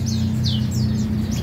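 Caged songbirds, grey-cheeked bulbuls among them, chirping at a bird shop: a few short, bright chirps repeat over a constant low hum and background noise.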